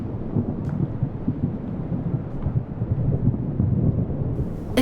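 Heavy rain pours down with deep, rolling thunder in a film scene, a dense, sustained low rumble and hiss with no speech.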